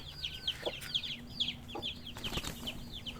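Hens cluck in quick repeated bursts nearby on a Filipino backyard farm, with a steady faint hum underneath.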